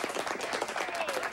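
A round of applause from a small group of boys honoring a paper delivery kid, dense steady clapping close by for about a second and a half, with a faint voice underneath.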